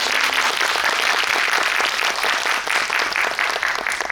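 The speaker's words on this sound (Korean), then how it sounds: "여러분 박수 한번 부탁드립니다" An audience at a film screening in a cinema hall applauds, dense continuous clapping from many hands that stays steady and fairly loud throughout.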